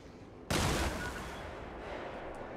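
A single sharp gunshot blast in the video game Warhammer 40000: Rogue Trader, loud and sudden, followed by a long sustained rumbling tail.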